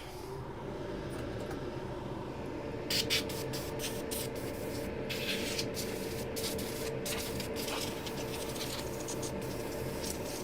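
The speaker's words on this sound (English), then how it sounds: "Okay, extractor back on." Constant hum and whoosh of an extractor fan running over an electronics repair workbench, steady throughout, with scattered small clicks and scratchy handling noises on top.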